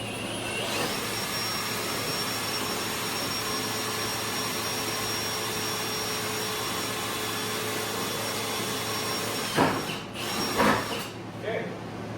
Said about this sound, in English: I'm going to drill this hole at about a, I don't know, 5-degree angle